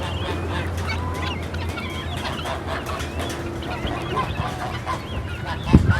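A flock of guinea fowl calls continuously, with harsh, overlapping cackles and honking cries up close, forming a busy, noisy chorus.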